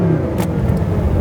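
A Mercedes SLS AMG engine gives a steady, deep rumble from inside the car, continuous and fairly loud for about a second, with no clear revving.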